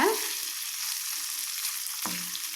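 Paneer fried rice fries in a pan with a steady bright sizzle, broken by a short knock and scrape as the rice is turned.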